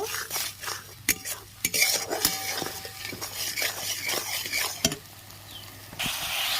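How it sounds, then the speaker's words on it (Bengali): Spice paste for dhokar dalna sautéed in a pan with a little sugar, a spoon scraping and stirring in repeated close strokes with occasional clinks against the metal over a low steady sizzle. "ভালো করে মশলাটা কষিয়ে নেব"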